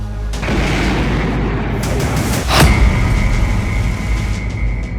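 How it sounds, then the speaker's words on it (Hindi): A loud, continuous roar of a drone explosion in Moscow, with a sharp blast burst partway through, followed by rumbling and a lingering high whine. "जेलेंस्की का एक और ड्रोन मॉस्को तक पहुंच गया और इस धमाके को अंजाम दिया"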